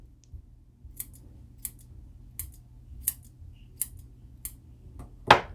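Scissors trim a small knitted yarn tassel for an ornament with about seven crisp, evenly spaced snips in a quiet room. A louder final cut closes the sequence, and no one speaks.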